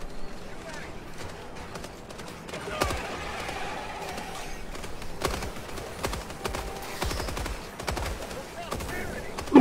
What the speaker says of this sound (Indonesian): Machine gun on the way.